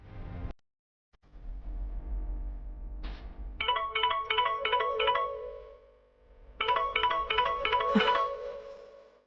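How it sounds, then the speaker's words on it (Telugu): A phone rings with an incoming call in a Telugu TV serial drama scene, two bursts of a repeating electronic ringtone pattern sounding clearly, with a low background hum and no talk. "శ్యామ అని ఫోన్ చేస్తోంది."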